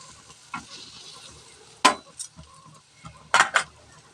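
Pomfret fish frying over slow-medium heat in a little oil gives a faint sizzle, broken by a few sharp clinks and scrapes of a spatula against the pan, close and quiet.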